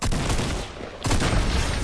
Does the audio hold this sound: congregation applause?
no